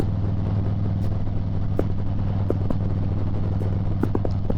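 Steady engine drone from a Harley-Davidson motorcycle on a ride, a constant low throbbing hum with wind noise and a few faint clicks, no talking.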